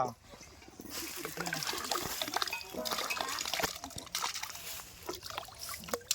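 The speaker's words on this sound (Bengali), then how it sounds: "ধুয়ে নিচ্ছি ধুয়ে নিচ্ছি আলুটা" New potatoes are washed by hand in water, giving splashing, sloshing and trickling sounds up close. A voice talks over much of the washing.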